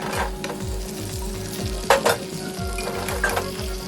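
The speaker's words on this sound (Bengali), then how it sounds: "আলু দিয়ে আমি মশলাটার সাথে ভালো করে নাড়াচাড়া করে আলুর মধ্যে মশলাটা মিশিয়ে নিচ্ছি।" Fried potatoes stirred into a spice paste frying in oil for a vegetarian aloo dum, a steady sizzle with rhythmic scraping strokes of a spoon in the pan and a couple of louder clanks midway.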